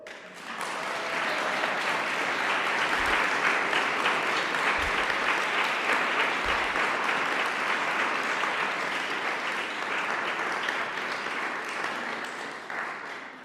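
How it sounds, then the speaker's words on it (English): Sustained applause from a conference audience fills the room, steady and dense throughout, with no talking over it. "I think that's worth a big applause."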